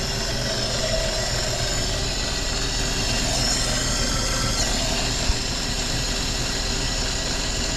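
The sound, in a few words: 1954 Chevrolet Bel Air 235 engine idling, carburetor noise without air filter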